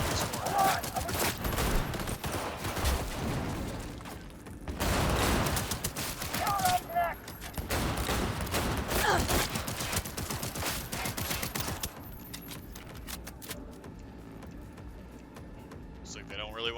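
Bursts of video game gunfire crackle in dense volleys through much of the stretch, fading out near the end, with someone talking over the shooting.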